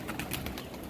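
Pigeons kept in a loft coo briefly as they are fed grain, a soft throaty burble heard through a constant wash of background noise.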